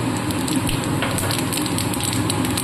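Black cumin seeds sizzle steadily in hot oil left from frying fish, a close, dense hiss with small crackles and no break, no voices over it.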